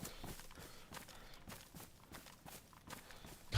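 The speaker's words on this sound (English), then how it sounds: "I hear footsteps." Footsteps in DayZ, a steady run of soft, fairly faint steps repeating at an even pace across the clip with no voices, ending in a brief louder bump.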